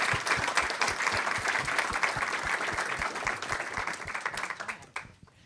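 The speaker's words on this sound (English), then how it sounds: "Can we get a round of applause for the panel?" A college event audience applauds a panel, a full steady round of clapping with some crowd noise that tapers off at the end.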